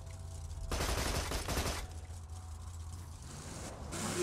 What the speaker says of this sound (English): What are you firing for?